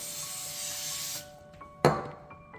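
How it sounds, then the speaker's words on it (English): A steady hiss of cooking oil sprayed onto parchment paper for about a second, then a short sharp clatter, then quiet. "I'm going to spray a little bit of oil as well"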